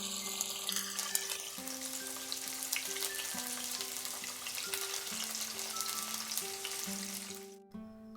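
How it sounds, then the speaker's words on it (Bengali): Paneer pieces fry in hot mustard oil over medium heat, giving a continuous even sizzle that runs beneath steady background music, with no talking. "তেলটা ভালো মতো গরম হয়ে গেলে আঁচটাকে মিডিয়ামে রেখে আমি পনিরের টুকরোগুলোকে ভেজে নেব।"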